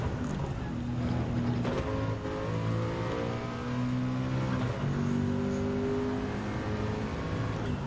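A racing car engine at full throttle in Gran Turismo 7 drones with a steady, sustained tone that rises and shifts in pitch as it accelerates through gears, loud and continuous.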